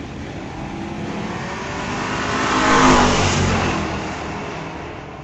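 Two cars, a Ford Mustang and a Chevy Corvette, drag racing down a street-legal strip: a steady roar of engines that swells to a loud peak as they pass midway, then fades.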